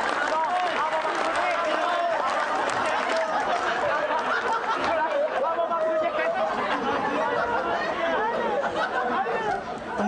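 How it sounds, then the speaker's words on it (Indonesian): Comedy club crowd at a stand-up battle applauding, a dense continuous wash of claps and chatter with scattered laughter throughout, loud and close, with voices blending into the noise. "Tepuk tangan buat Metro TV"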